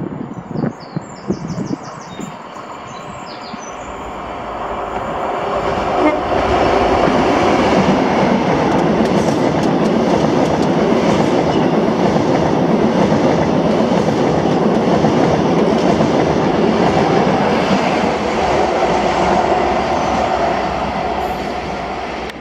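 A London North Eastern Railway passenger train running from Inverness to London King's Cross builds up and roars steadily past at close range through Blair Atholl, a long, loud rumble of wheels on rails.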